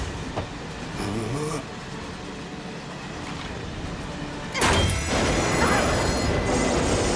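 Train running on rails in Final Fantasy 7 Remake, a steady mechanical rumble and rattle with a louder, brighter surge of noise near the end, with faint game voices underneath.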